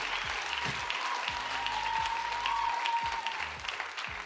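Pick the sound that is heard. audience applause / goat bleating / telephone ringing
audience applause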